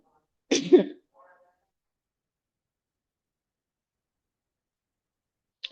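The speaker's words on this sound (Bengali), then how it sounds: "কাশি আসছে" A single sharp cough bursts out close by at the start of an online class call. A tiny trailing sound follows, then long silence and a brief noise at the very end.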